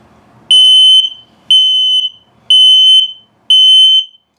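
A loud electronic alarm from a carbon monoxide and LP gas detector being tested in a 2024 Aucta Magnolia sounds four piercing beeps, each about half a second long, evenly spaced with short silences between them.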